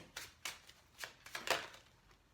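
Tarot cards are drawn and shuffled by hand in four or five quick, soft swishes and flicks, heard close up with short gaps between them.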